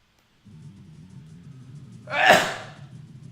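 After a low hum of background sound, a single loud, sharp sneeze bursts out close to the microphone and then fades away.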